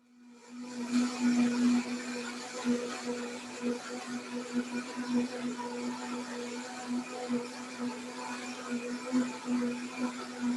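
A blender whirs steadily while making a spinach smoothie, a continuous motor drone with a strong low hum holding for about ten seconds at moderate volume, no talking over it.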